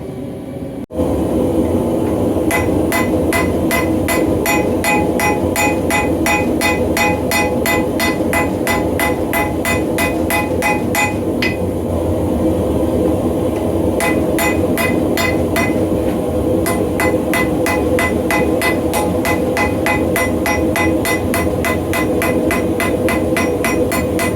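A railroad spike knife gets forge-welded with a hammer, in two long runs of sharp metallic strikes hitting the anvil and workpiece at a quick steady pace, loud and close over a constant forge roar.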